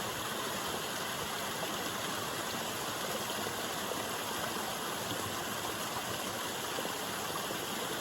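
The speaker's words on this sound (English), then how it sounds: "I'm going to go to this waterfall over here to get some water." A waterfall-fed stream on the Appalachian Trail rushes in a steady, even wash of water, unbroken and fairly soft, with no voices.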